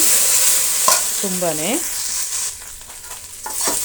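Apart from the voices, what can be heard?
okra frying and being stirred in a pan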